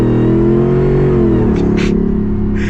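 A Jeep Wrangler engine revs hard under acceleration, a loud, deep, throaty roar rising and falling in pitch, heard up close.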